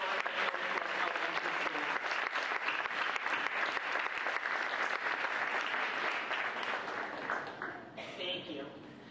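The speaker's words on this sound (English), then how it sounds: "Let's give these students another round of applause." An audience at a Board of Education meeting applauds students being recognized: sustained, dense clapping for most of the stretch, easing and thinning toward the end.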